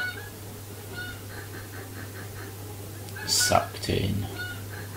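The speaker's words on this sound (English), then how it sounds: "No! Bad geese!" Geese honking in the golf video game Golf Story, a brief loud squawking burst near the end over a steady background hum, with a short whispered voice just before.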